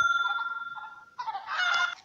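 Cartoonish chickens clucking in the mobile game Egg, Inc., short bright pulsing clucks followed by a busier cluster of squawks, close and clear with no talking.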